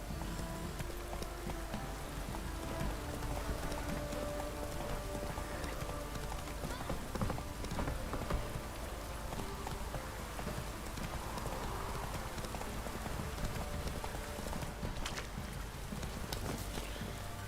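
Horse hooves trot through rain in The Witcher 3, a steady clip-clop rhythm under a constant wash of rainfall, with a brief spoken word near the start.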